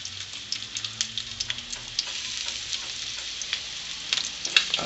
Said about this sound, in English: Don't put them in there unless that butter is sizzling.